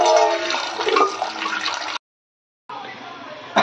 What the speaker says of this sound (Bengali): এখন সীমাদি চায়ের ডাব্বাটা ধুয়ে দিল